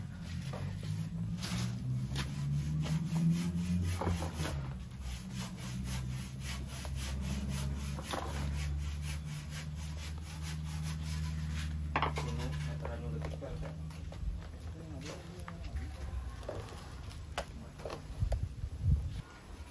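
Homemade fermented livestock feed made from household waste being stirred and mixed by hand, a steady scraping, rubbing texture with rhythmic strokes throughout, faint and close.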